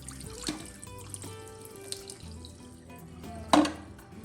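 A removable part of a Tineco carpet cleaner is rinsed under a running tap, giving a steady splash and trickle of water with a few clunks and a sharp knock near the end.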